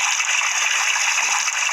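A shower runs steadily in a home bathroom, giving a loud, even hiss of spraying water that goes on without a break.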